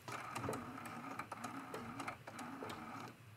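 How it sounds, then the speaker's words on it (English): Sewing machine stitching quilt fabric for a cathedral window ornament, a quiet close mechanical whirr with rapid rhythmic needle ticks running steadily. "We're going to take a couple stitches"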